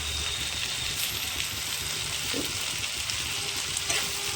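Chopped coriander is stirred into mutton brain frying in a pan, producing a soft, continuous sizzle with a light scrape of stirring, fairly quiet and steady.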